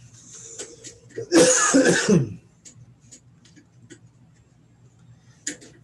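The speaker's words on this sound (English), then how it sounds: "I'm gonna cough for a second." A short burst of coughing, two or three harsh rough coughs close up, followed by quiet room tone with faint ticking and small clicks.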